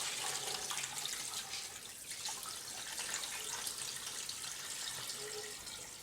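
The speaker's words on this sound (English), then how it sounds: "And I will top the rest up with some cold water." Cold tap water runs steadily into a pot of ham stock for traditional brawn made with a pig's head, a faint, even rushing pour with no voices.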